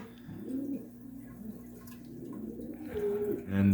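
Small white doves coo softly and repeatedly at close range in cold outdoor air, low rounded calls in a slow rhythm with faint dripping water around them.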